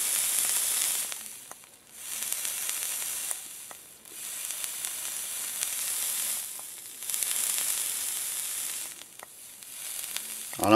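An e-cigarette coil in an EHPRO Mod 101 sizzles and crackles as its cotton dries out, with steady close hiss swelling and fading in repeated bursts.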